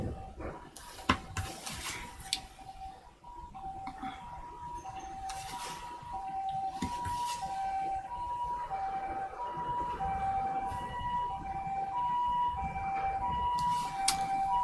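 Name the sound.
ambulance siren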